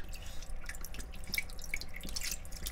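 Red sea bream rinsed in rice-rinsing water, close watery sloshing and scattered bright drips and splashes as the fish is swished about, without speech.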